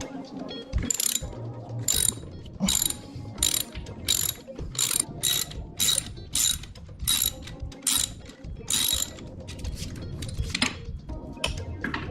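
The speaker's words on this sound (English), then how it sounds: "It's a 5mm bolt. We're just going to unscrew that." A ratchet unscrews a 5mm bolt on a Ninebot Max G30 electric scooter during a front suspension install, producing rapid, close, crisp clicking bursts in a steady back-and-forth rhythm with brief gaps between strokes.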